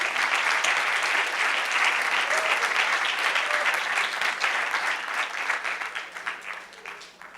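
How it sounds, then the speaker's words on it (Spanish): A seated audience at a talk gives a warm round of applause for an invited guest columnist, loud and full at first with many hands, then gradually thinning and fading toward the end. "Les pido un aplauso, por favor,"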